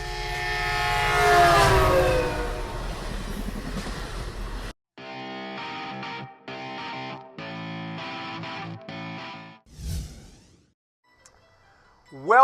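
Train-themed sound effect for a sports show intro, a distorted rushing roar with a horn-like tone that cuts to a choppy, stuttering tonal sequence, then a brief whoosh and a final burst at the end.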